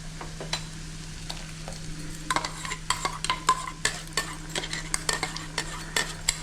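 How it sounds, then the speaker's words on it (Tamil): Tomato paste sautéing with garlic and shallots for kola fish curry, a steady sizzle under repeated sharp scrapes and clinks of a spoon stirring the pan, growing busier partway through. "இப்போது தக்காளி பேஸ்ட்டும் இது கூட சேர்த்து நல்லா பச்சை வாசனை போகிற அளவுக்கு நல்லா வதக்கணும்"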